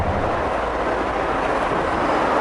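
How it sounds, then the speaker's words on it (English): Light rail tram in Surfers Paradise on the Gold Coast, a steady loud rumble and hiss of the passing vehicle with no clear breaks, heard without voices. "the light rail tram thing"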